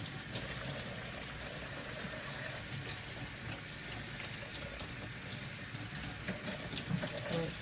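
Water runs steadily from a tap in a continuous close wash while rinsing the leaves of a store-bought houseplant during repotting.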